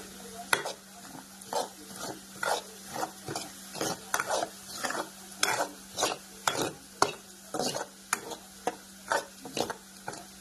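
Tomato stirred into frying vegetables for a bottle gourd and potato curry, with rhythmic spoon scrapes against the pan repeating about twice a second over a soft continuous sizzle, close and clear.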